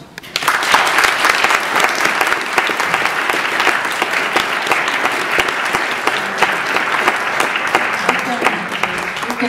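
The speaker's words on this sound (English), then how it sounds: "please give them a great applause" An audience at a security conference applauds panelists with loud, sustained clapping that fills the room, dense and even throughout.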